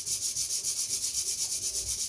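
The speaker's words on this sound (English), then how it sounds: "So the structure gets sanded," Light, rhythmic sanding of the wooden structure of a hummingbird model kit, a steady back-and-forth rubbing stroke repeated about ten times, close and alone.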